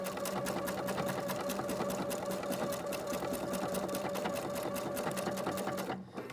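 A PFAFF creative icon sewing machine stitches ribbon in one continuous, even, fast run of needle strokes that cuts off near the end, with no talking.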